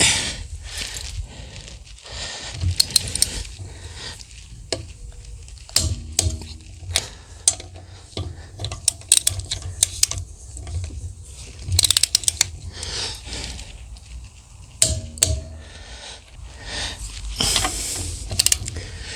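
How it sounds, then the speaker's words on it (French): A VANPO half-inch torque wrench tightening two nuts, giving bursts of ratcheting clicks and metallic clacks with short pauses between strokes, close and fairly loud. "On va resserrer nos 2 écrous."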